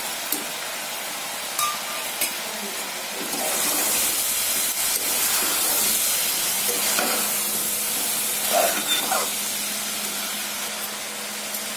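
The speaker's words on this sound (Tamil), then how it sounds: "நல்லா காய்கறிலாம் வதங்கிடுச்சு" Mixed vegetables frying in a pan for vegetable biryani, a loud steady sizzle and hiss that swells after a few seconds and continues with occasional stirring clinks.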